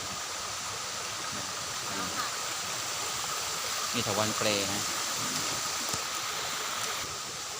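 Tha Khro Waterfall roars steadily in the background as a constant wash of rushing water, while someone speaks briefly over it.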